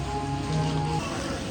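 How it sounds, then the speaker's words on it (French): Rain falls steadily at Walt Disney World in Orlando, a continuous close hiss of drops with no clear breaks over the short stretch. "Par contre la pluie s'est pas arrêtée."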